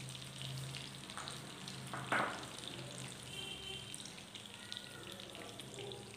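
Small pieces of butter drop into hot oil in a pan while paneer lababdar is being cooked, producing a steady close sizzle with a brief louder crackle as they go in.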